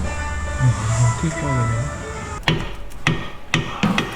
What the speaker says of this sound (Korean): 지금 망치로 쳐가지고